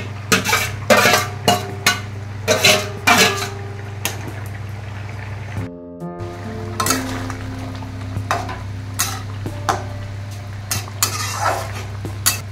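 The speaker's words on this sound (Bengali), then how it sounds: "এখন পনিরগুলো দিয়ে দিব" Paneer cubes go into a pan of curry and get stirred, with repeated close scrapes and clinks of a utensil against metal over a steady low sizzle and bubbling.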